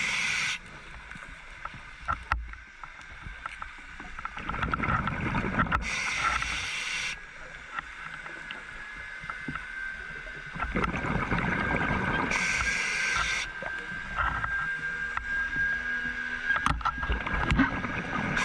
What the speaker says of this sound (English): when you see speedboats going out and the noise they produce